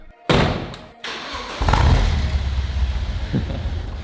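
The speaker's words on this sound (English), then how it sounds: "So Don is starting the car." A BMW car engine cranks with a couple of abrupt thumps, then catches and settles into a loud, rough, steady idle close by.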